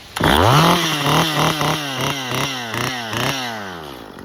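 A chainsaw engine roars loudly up close, revving in repeated surges and dips before settling toward idle.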